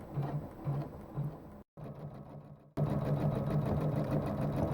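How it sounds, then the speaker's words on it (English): A quilting sewing machine stitching a large quilt runs with a fast, steady mechanical whir and chatter, pausing briefly twice before resuming louder, close by with no talk. "Okay, I'm going to get it sewing now."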